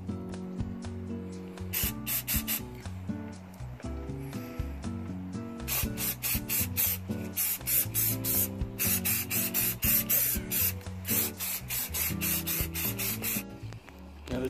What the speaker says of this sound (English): So I am going to go ahead and do a clear lacquer and let them dry for another day.